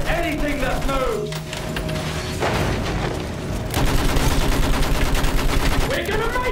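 Sustained rattling gunfire and dull booms fill a war video game battle, near and fairly loud, with shouted voices and game sounds mixed in.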